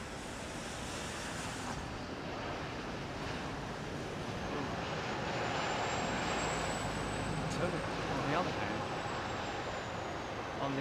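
Jet airliner engine spooling up at London Heathrow near runway 27R, a broad, loud roar that stays steady and builds slightly, with a faint rising whine above it and wind noise, nearby voices talking over it.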